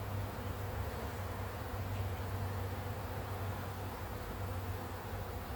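A dense, steady drone of honey bees swarming around a hive frame during a honey pull, loud and close, with a continuous low hum and no talking.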